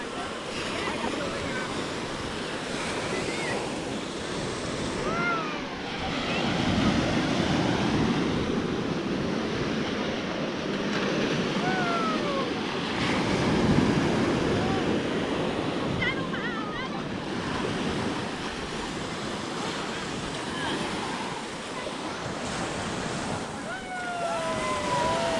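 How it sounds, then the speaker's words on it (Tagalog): Big ocean waves roll and crash steadily on a beach at Caoayan, Ilocos Sur, a loud continuous surf roar with wind buffeting the microphone and faint voices now and then. "Ay, lakas na lang alon."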